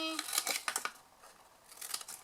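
Scissors snip through paper while making a gift bag card, a few quick crisp cuts close by, followed by a brief pause and a softer final snip.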